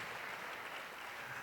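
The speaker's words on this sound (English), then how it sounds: "A round of applause, please, for all the contestants." Faint, steady wash of applause from a pageant audience cheering the Miss Africa USA contestants, distant and even with no distinct individual claps.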